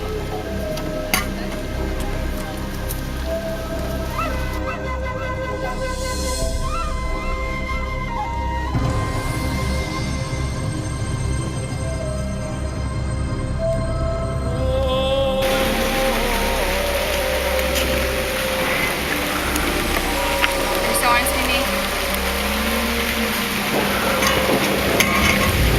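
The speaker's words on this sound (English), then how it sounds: "That was hail." Hail storm in a survival-themed video game: a dense, steady patter and rattle like ice pellets striking a surface, continuous and loud under a sustained tonal music bed.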